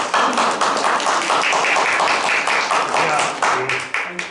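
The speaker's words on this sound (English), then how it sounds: "Gina, give her a round of applause." Audience at a live mind reading stage show applauding a volunteer, a steady wash of hand claps with some sharper individual taps, fairly close and continuous throughout.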